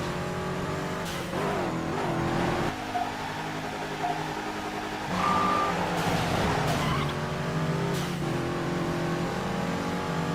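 Cars racing in the rain during an Atlanta tuner race in Midnight Club 3: DUB Edition Remix, with continuous engine roar, revving and tire noise layered with rain spray, steady and fairly loud throughout.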